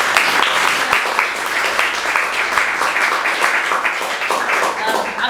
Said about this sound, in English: Can we just have a round of applause?